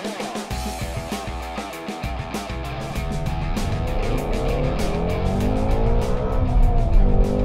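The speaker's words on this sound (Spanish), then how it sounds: "La razón que este Mustang ruge tan fuerte es porque ellos usan un flat plane crank" A 2017 Ford Shelby GT350 Mustang with a flat-plane-crank engine roars loudly and close, its pitch climbing steadily as it revs, with no talk over it.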